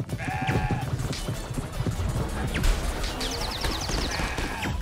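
Goat-like creatures bleating in the action RPG CrossCode, several wavering cries overlapping amid combat thumps, clatter and crashes, with game sound effects throughout.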